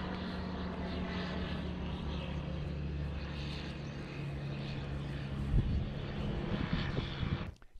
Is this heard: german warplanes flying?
yes